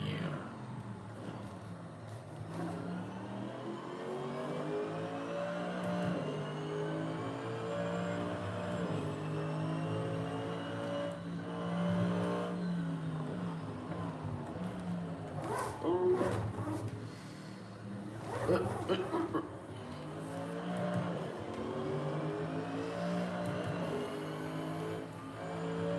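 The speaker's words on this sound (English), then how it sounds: "I used to didn't like sound of the AMG GT3 Mercedes" Mercedes AMG GT3 race car engine in Assetto Corsa, droning steadily with rising and falling pitch across gear changes, a few louder bursts midway, with a person talking over it.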